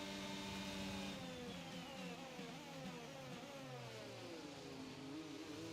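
An F1 car in the F1 22 game accelerates out of Parabolica at Monza, its high engine note climbing through rising gear sweeps, loud and continuous with no talking.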